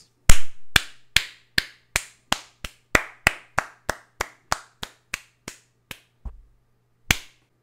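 A run of sharp, evenly spaced claps, about fifteen in a steady rhythm, then a short pause and one final clap; loud and close with no talking.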